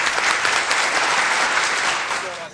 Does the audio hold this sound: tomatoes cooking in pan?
no